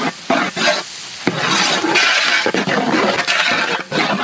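Chopped onions fry in pure country cow ghee in a pot for village mutton biryani, a loud steady sizzle broken by repeated scraping stirs, with no talk.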